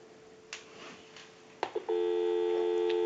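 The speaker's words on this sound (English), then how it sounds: "So we'll go ahead and give you some dial tone" A single slot payphone gives a few clicks and handling noises, then a steady, loud dial tone comes on and holds to the end.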